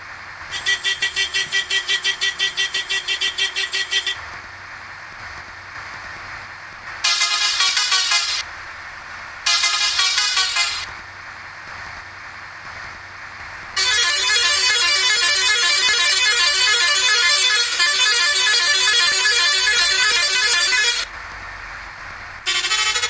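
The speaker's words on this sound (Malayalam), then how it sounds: "ഇവൻ്റെ ഭീകര ഹോൺ കേൾക്കാം" A vehicle horn in a video game blasts repeatedly: a few short bursts and then one long sustained blare, with an engine idling underneath.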